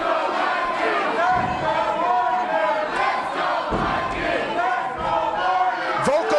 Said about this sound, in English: I'm surprised to hear anybody cheering for James Morgan.